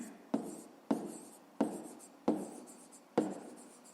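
Pen strokes scratch across paper in five short bursts at a steady pace, each with a sharp onset and a quick fade, close and quiet with no talking.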